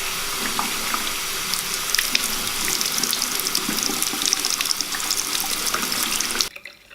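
Tap water runs steadily for several seconds, a broad splashing hiss as colour slide film is given a thorough rinse during home development, stopping abruptly near the end.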